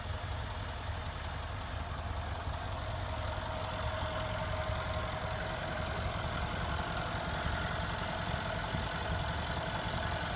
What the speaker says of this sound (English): Beautiful engine. It is very powerful and impressive.